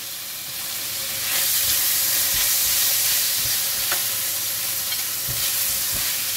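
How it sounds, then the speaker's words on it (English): Soy sauce and oyster sauce hitting a hot pan for Cantonese yee mee, a loud steady sizzle and steaming hiss close up with occasional utensil taps, no voices. "Putting in half of the soy sauce first, and also half of the oyster sauce."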